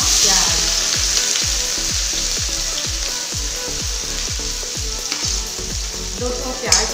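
Onions fry in hot oil with cumin and coriander, a loud close sizzle overlaid by a regular series of scraping stirs, roughly two per second, with no talk.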